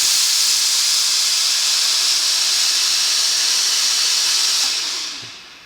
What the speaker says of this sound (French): le bouton ici permet de régler le débit de vapeur. Donc je vais le mettre vapeur en continu.